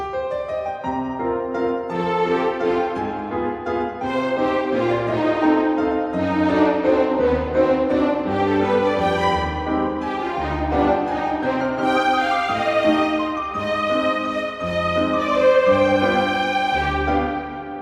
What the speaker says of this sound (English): This time we'll use the second violin section for a counter melody.